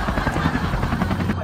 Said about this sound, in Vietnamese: đi trực thăng tới trên trời xuống mà đâu ngoài cửa